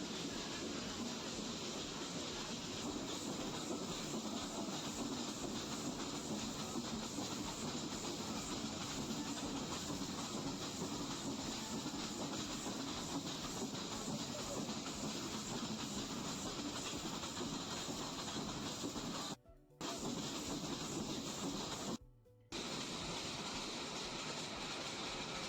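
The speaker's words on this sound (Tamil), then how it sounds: "ரயில் தன்னோட பயணத்தை தொடங்குது." A Mettupalayam–Ooty steam train starts its journey with a continuous hissing, rumbling chug and rail clatter, steady and close, interrupted by two brief cuts near the end.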